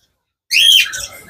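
A lutino parrot pair gives one loud, harsh squawk up close after a moment of silence, trailing off into a softer call.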